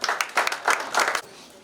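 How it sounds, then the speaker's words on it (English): An audience applauds a choir at a Zimbabwean choral performance in South Africa. Bursts of clapping swell and fade in quick waves for about a second, then drop to a faint murmur. "can we give them a round of applause again?"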